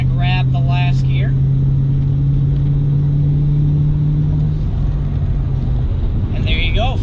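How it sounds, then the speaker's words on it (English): A manual car accelerating while shifting up to fifth gear: a loud, steady engine drone with a low hum that drops away partway through as gears change. Someone talks over it at the start and end. "shifting into 3rd, there is 4th gear, and here we go, we're going to grab the last gear."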